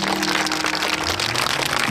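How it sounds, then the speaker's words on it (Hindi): Dense, loud applause from a crowd gathered in a village, a continuous roaring wash of clapping with a low tonal hum and music underneath. "चलो इनके लिए तालियां बजाओ"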